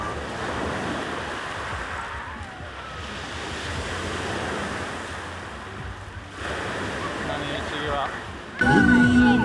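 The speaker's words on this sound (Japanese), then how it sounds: "なかなか激しい波。" Strong sea waves breaking on a stony beach with a bridge in view, a steady rushing wash of surf with wind noise over the microphone, growing louder near the end.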